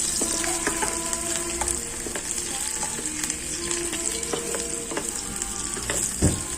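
Oil fries and sizzles steadily close up while spicy Korean noodles cook, a constant hiss with faint stirring clinks and no talking.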